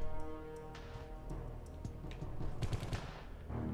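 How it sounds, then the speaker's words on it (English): Rapid gunfire in the video game Geist rattles in quick bursts over a tonal game soundtrack, moderately loud with no talk. "Somebody's shooting at me."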